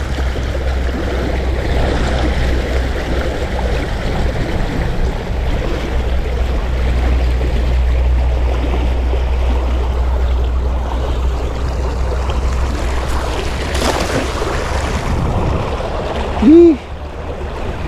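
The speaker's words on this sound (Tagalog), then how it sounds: "Lakas ng agos." A strong river current rushes past while fishing, giving a loud, steady broadband wash with low rumble and wind-like noise throughout, plus a brief whistling tone near the end.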